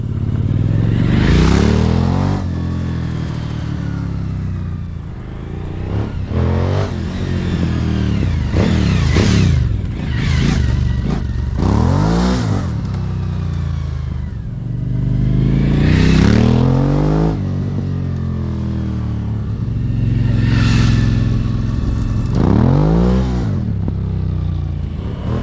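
A Suzuki V-Strom 1000 fitted with a 14-inch Delkevic exhaust, run with the baffle in and out, roars past several times, each pass swelling loud and close, then fading as it revs away down the road.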